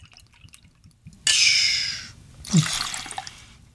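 Jagermeister pours into a cocktail shaker holding ice, with a brief liquid splash and rush followed by a second, gurgling pour, close and fairly loud against faint background clatter.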